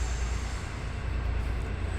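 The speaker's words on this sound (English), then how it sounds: "Train." A train passes with a heavy, continuous low rumble and hiss, fairly distant and steady throughout, with no voices.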